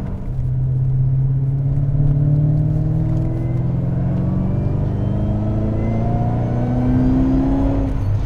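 A supercharged MG ZT 400 with a Ford Mustang V8 drones heavily under load, its deep rumble overlaid by a rising supercharger whine that climbs in pitch as the car accelerates, loud and close throughout.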